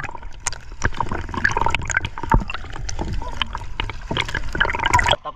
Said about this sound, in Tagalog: binubulabog na po nila yung tubig